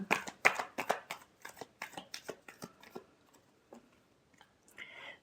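Tarot cards being shuffled for a weekly horoscope reading, a quick series of crisp riffling bursts that slow down and thin out, close and moderately loud, followed by a few soft isolated taps.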